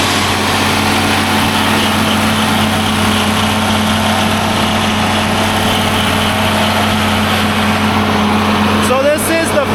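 A John Deere 4230 tractor engine running steadily, a loud, close, continuous low diesel drone with a constant hum throughout and a brief tonal squeal near the end.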